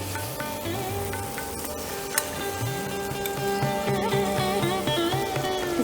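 Prawns fry in a pan for Thakur Bari–style doi chingri, giving a steady, close sizzle that lasts throughout, with sustained tonal sounds running underneath.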